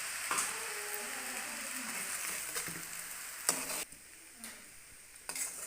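Soy sauce goes into vegetable Chinese-style rice frying in a pan. A soft sizzle runs under stirring, with sharp utensil clacks against the pan at intervals.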